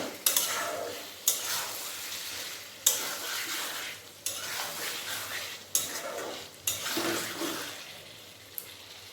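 Chicken curry with garam masala is stirred in a pan, with repeated scraping sweeps every second or so over a continuous wet sizzle, heard up close.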